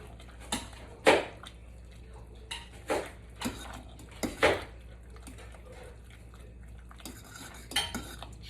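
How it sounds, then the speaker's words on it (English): A spoon scrapes and clanks against a pot as garlic and cheese are stirred into rice and beans, giving about eight irregular metallic knocks over a low background, with no talk. "We're gonna stir it in."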